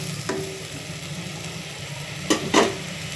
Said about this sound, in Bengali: তো চল আমি মশলাটাকে একটু কষিয়ে নিই